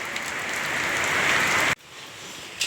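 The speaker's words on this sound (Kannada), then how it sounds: "ನೋಡ್ರಿ ಮಳೆ ಹೆಂಗೆ ಬರೋದೈತಿ" Heavy rain falls in a dense, steady hiss that suddenly drops to a quieter patter partway through.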